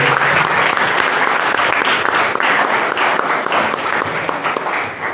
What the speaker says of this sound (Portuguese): Vamos receber o servo de Deus com as palmas bem alegres para essas pessoas.